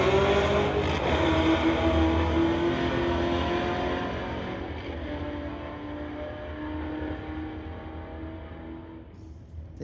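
A 2017 Camaro and a 2015 Mercedes launch off the drag strip line with a loud, close engine roar and rising harmonics, and the sound fades steadily as the street-legal cars pull away.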